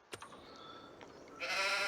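Goats in the game Farming Simulator 25, a couple of short bleats followed by a louder, sustained nasal bleat at the end, close by with no talking.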